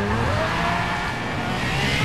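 A car skids in the racing video game Need for Speed: World, a loud continuous roar of engine and squealing tires that holds steady throughout with no pauses.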